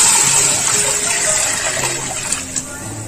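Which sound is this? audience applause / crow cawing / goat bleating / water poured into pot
water poured into pot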